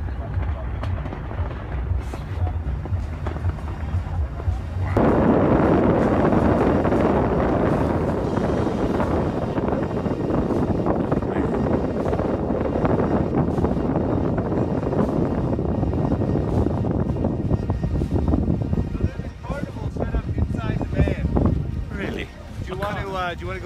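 Wind gusting at Burning Man, a dusty, hot desert setting, roars loud and steady across the mic, jumping sharply in force after a quieter opening and staying rough and blustery to the end.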